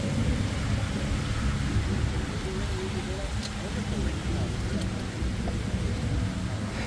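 Heavy rain and wind of a severe storm roar steadily and loudly throughout, with a few faint distant cracks of thunder.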